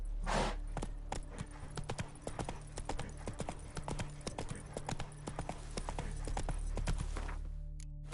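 Horse hooves clip-clop in The Witcher 3 video game, a brisk steady rhythm of sharp hoofbeats that runs the whole stretch alongside low ambient game sound before stopping near the end.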